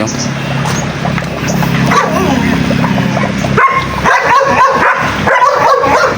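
Dogs bark in a quick series of loud, close yips and barks, mixed with someone talking and outdoor background noise.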